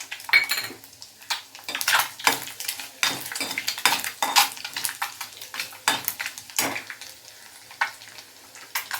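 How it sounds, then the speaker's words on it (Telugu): Crushed garlic drops into hot oil with popping mustard seeds for an Andhra-style egg curry, busy metallic clatter and scraping of a spoon against the pan over crackling frying, near and lively, with no speech. "ఇప్పుడు దంచి పెట్టుకున్న వెల్లుల్లిపాయ ముక్కలు వేయాలి"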